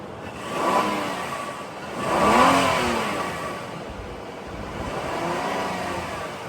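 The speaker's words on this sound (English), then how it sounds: "And what I'm going to try to do is rev it" A 2013 Nissan Pathfinder engine with the hood open, revving twice in smooth rising swells before settling to a steady mid-pitched hum, close and clear with no talk.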